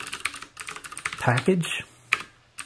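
Quick clicking keystrokes on a computer keyboard pattern through the stretch while someone talks over them, with one sharper key tap near the end.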